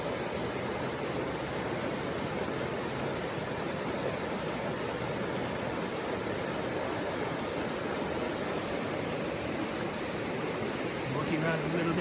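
Campbell Creek in Anchorage, Alaska, flowing in a constant, dense rushing wash of water, close and steady for the whole stretch with no clear breaks.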